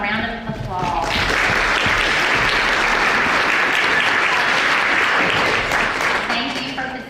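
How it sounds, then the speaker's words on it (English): A school audience gives a round of applause for students who organized a fundraiser, a loud, sustained crowd clapping that swells and holds, with a voice speaking briefly at the start and end. "Let's give them a round of applause."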